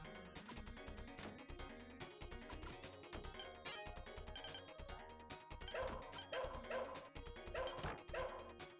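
A dog barks in the Shadow Dancer video game, several short yapping barks in quick succession near the end, over busy game music and effects.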